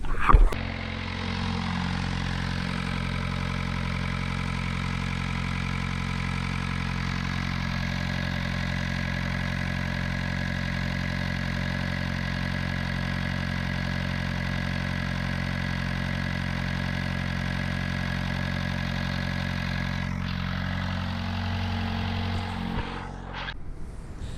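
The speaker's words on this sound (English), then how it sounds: "let's fire up the engine" A sailboat's engine starts with a brief burst, then idles at a steady, low, even hum for about twenty seconds before shutting off near the end.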